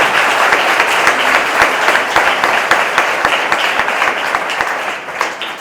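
A church congregation at a Sunday Mass bursts into sustained applause, dense clapping filling the hall steadily before thinning slightly toward the end.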